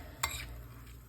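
A utensil scrapes and stirs a bruschetta topping with garlic in a bowl, one brief clink near the start followed by quiet close-up mixing, with no talking.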